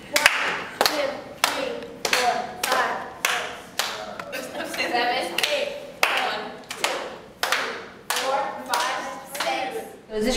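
People clap their hands in a steady rhythm for a group clapping game, sharp bursts repeating evenly about once a second, close and fairly loud with no talking.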